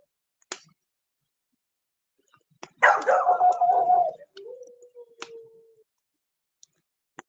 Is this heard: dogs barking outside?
yes